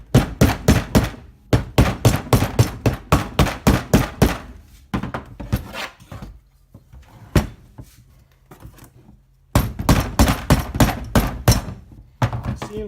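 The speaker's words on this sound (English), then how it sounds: "I'm going to use my precision sledgehammer to try and loosen it up" A sledgehammer strikes a stuck intake manifold on a Mitsubishi 3000GT in rapid runs of sharp, close metallic blows, with a quiet stretch in the middle before a final flurry of hits.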